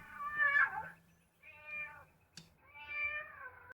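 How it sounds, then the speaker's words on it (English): A car horn button that plays cat sounds gives three separate meows with short pauses between them, clear and fairly close, with a brief click before the last one. "you just push them, and then it makes cat noises"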